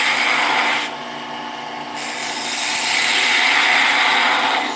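Freshly sharpened turning tool cutting cherry wood on a lathe, a continuous close hissing scrape that dips briefly and then returns at full strength, with no talk.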